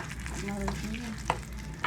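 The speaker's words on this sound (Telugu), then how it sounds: "మరుగుతుంది ఇంకా." Curry boils in a pot on a home stove, giving a steady close wash of bubbling and sizzling with a few sharp clicks and pops scattered through it.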